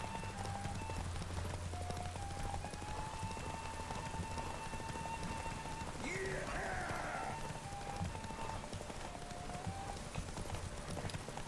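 Hooves of Roach, the horse in The Witcher, beat in a soft, steady gallop under a continuous ambient wash of game music and background noise, with no clear voices.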